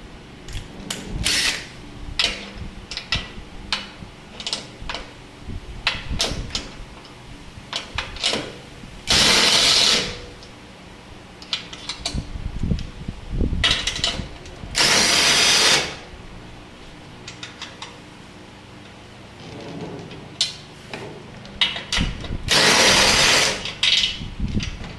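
A power tool whirs in short bursts as it removes bolts from the front bumper of a Toyota Tacoma, with several longer loud runs and clanks and handling noise in between.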